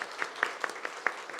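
Congregation applause at a Christmas Sunday church service, a run of evenly spaced, fairly rhythmic claps at a moderate, slightly distant level.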